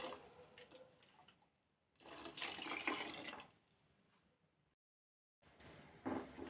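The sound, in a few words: water poured into field bean sambar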